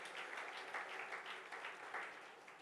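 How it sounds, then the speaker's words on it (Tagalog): Church congregation clapping together in a worship service, a dense sustained wash of many hands applauding at moderate distance, steady throughout and fairly faint. "Palakpakan mo naman ang Panginoon dyan."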